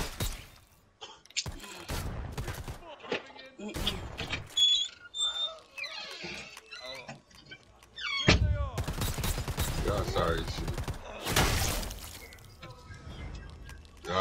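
Bursts of gunfire in the video game Predator, sharp volleys and scattered shots separated by pauses, with a couple of longer loud barrages near the end.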